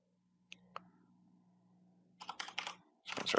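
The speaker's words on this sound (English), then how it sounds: "I'm going to start typing data table." Fast bursts of clicking on a computer keyboard while working in Unreal Engine 5, a couple of isolated key taps followed by quick clustered typing runs, close and clear in a quiet room.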